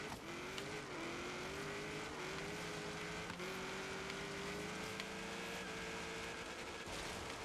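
A rally-built Subaru WRX STI VT15R engine drones steadily in a racing video game, holding a sustained tone that rises and dips slightly with throttle over constant road and tyre noise.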